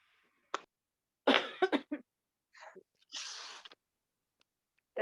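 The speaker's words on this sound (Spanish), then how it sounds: "No me aguantan la tos." A woman coughs several times in a quiet room, a single cough followed by a harsh cluster of coughs and a throat-clearing rasp, close and fairly loud between silences.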